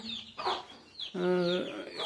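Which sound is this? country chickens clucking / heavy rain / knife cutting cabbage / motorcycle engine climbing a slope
country chickens clucking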